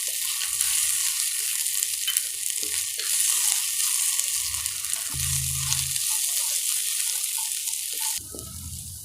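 Ginger garlic paste sautéed with onions in a pan for a potato coconut gravy, a steady dense hiss of frying with soft low stirring thumps, easing off near the end.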